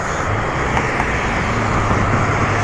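Steady traffic noise from cars passing on North Main Street at William and Augusta Streets in Racine, Wisconsin: a continuous, fairly loud broadband roadway wash with no talk over it.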